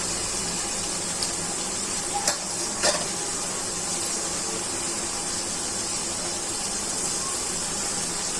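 Spices and garlic paste fry in a pan for a Bengali vegetable stir-fry of Malabar spinach, okra and tiger prawns, giving a steady, even sizzle with a few brief clinks near the middle and no talking.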